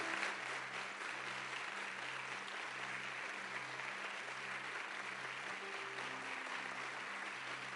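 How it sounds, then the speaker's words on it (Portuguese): A church congregation gives steady, sustained applause for the mothers during a Mother's Day service. The clapping is dense and fairly faint, with no voices over it. "Agora eu vou pedir que todos os demais aplaudam essas mães. Insistam nos aplausos."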